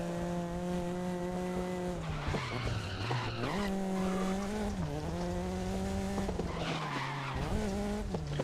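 Race cars in the Grid video game skid with sustained, wavering tire squeal over a steady engine drone, the pitch dipping and rising as the cars slide through corners, loud and continuous throughout.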